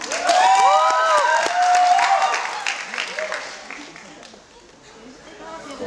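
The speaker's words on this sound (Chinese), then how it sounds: "掌声鼓励" An audience applauds and cheers at a university graduation singing contest. The clapping sits beneath a presenter's voice at first, then thins and fades.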